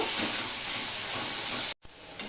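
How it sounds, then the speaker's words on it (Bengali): Methi greens with turmeric fry in a pan, a steady, close hiss of sizzling oil that cuts out abruptly near the end and then resumes more quietly. "সম্পূর্ণটা মিশিয়ে নিয়ে আমি ভেজে নেব"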